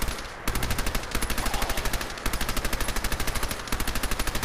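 Rapid automatic gunfire in the Fallout 4 video game, loud, evenly spaced bursts of shots repeating in close succession with brief gaps between volleys.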